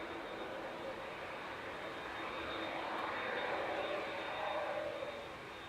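An SAS Airbus A320neo jet departs for Copenhagen from Manchester Airport, its engine roar a steady, moderately distant broadband rumble that swells slightly midway before easing off.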